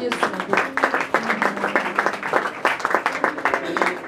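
A congregation claps steadily in quick rhythmic bursts during a church seminar service, the applause sustained and fairly close with voices mixed in.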